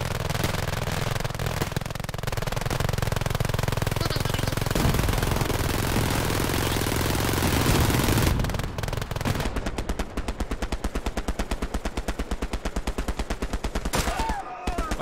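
Sustained machine gun fire in the WW2 shooter Hell Let Loose, a dense, loud, continuous rattle of rapid shots at close range, continuing in a steady stream with a slight shift in tone partway through.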